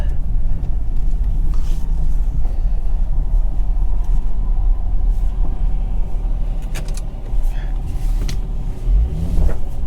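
Nissan 350Z bought at a Copart salvage auction, its engine pulling and rumbling loudly and steadily throughout, with a few brief higher clinks above the drone and a voice speaking at moments.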